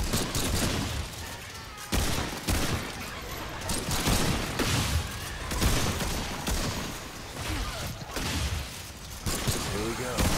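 Gunfire including shotguns in the video game Remnant 2, repeated loud close blasts in uneven bursts across the clip, with someone talking over the shooting.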